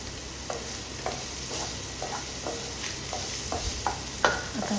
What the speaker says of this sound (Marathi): हे व्यवस्थित आपण आता परतून घ्यायचं। त्यामध्ये आता कांदा टाकायचा।